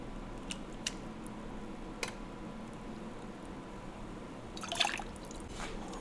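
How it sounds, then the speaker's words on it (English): Liquid sauce being ladled out of a pot in a home kitchen: faint drips and trickles with a few light clinks of the ladle, close and quiet over a low background hiss, with a brief splash near the end. "I'm gonna try to just get it out with a ladle, at least some of it"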